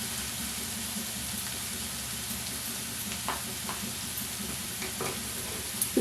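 Something frying in a pan for onion pickle sizzles steadily while a spoon stirs, with a few louder scraping clicks near the end and no talking.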